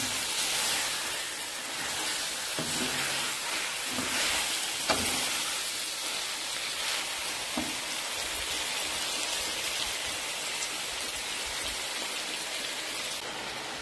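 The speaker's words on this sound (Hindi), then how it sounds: "लहसुन अदरक का पेस्ट जो है वो शामिल कर दूंगी। ये 2 चम्मच के करीब मैंने लिया और इसको भी अच्छी तरह से भून दूंगी।" Garlic-ginger paste, about two spoonfuls, frying and being stirred in a pan for chicken tomato karahi, giving a steady, close, rain-like sizzle with a few soft knocks, and no voices.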